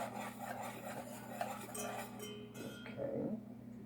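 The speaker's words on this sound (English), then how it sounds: "we put our milk in here and whisk that together" Milk being whisked in a bowl for a peach buckle, a faint, steady scraping with a few light clinks of the whisk against the bowl toward the end. No one speaks.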